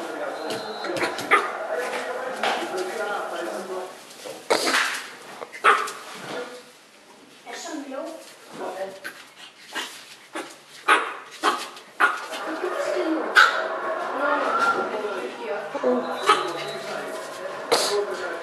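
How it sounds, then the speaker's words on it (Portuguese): A dog barks and yips in short, sharp bursts, loud and close, with someone talking over and between the barks. "Pode parar de latir a senhorita também."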